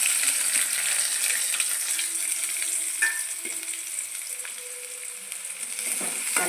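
Chopped onions fry in a pan with mustard seeds, fenugreek and curry leaves, giving a steady, dense sizzle that runs throughout with occasional faint clinks of stirring.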